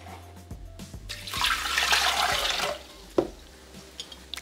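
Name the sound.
water poured into a Thermomix jug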